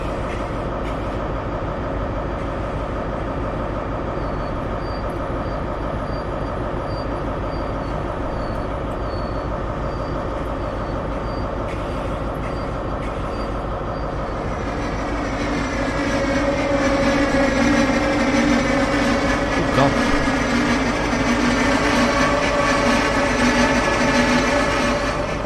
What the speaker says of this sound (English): That's the Mark IV flange sound.